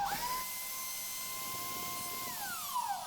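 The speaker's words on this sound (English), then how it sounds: "and a router. I've got no other way of flattening this, so this will have to do the job" A wood router flattens a guitar body with a steady, high-pitched motor whine that shifts tone partway through as it cuts, heard close and continuous with no talk.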